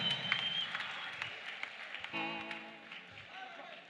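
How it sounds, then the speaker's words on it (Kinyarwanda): A church congregation at a night worship gathering claps in a faint, scattered burst of applause, partly under a sustained organ or keyboard chord and a voice. "Dukomere Yesu amashyi"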